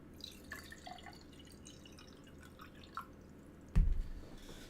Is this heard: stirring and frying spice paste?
no